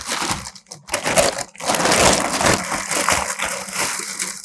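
Loud crinkling and crushing of a plastic bag while an Anthem MDX 16 amplifier is unboxed, a dense, continuous rustle of handled plastic with sharper crackles throughout.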